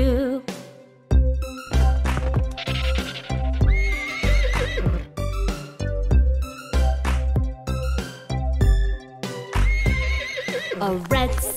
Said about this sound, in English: A brown horse neighs real loud